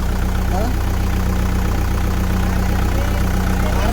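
A tractor engine runs at a steady idle with throttle held at normal revs, a continuous low rumble throughout, with a voice giving driving instructions over it.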